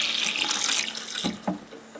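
Water splashes and rushes steadily for about a second and a half, then thins out, followed by a couple of brief splashy pours near the end, as water is poured over fertilizer for hazelnut bushes.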